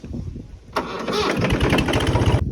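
A farm tractor's diesel engine turns over and catches, then settles into a loud, close, steady chugging idle.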